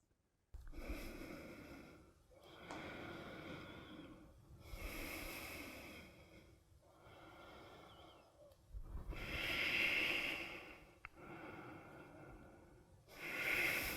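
Slow, deep breaths during a wrist mobility exercise, airy inhales and exhales alternating every couple of seconds, close and soft with a faint hiss, no talking.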